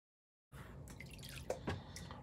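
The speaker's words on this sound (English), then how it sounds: "So let's actually start panning this stuff out." Water swishes and drips in a gold pan as paydirt is washed, with a few soft splashes and small plops close by, fairly quiet, with no talking.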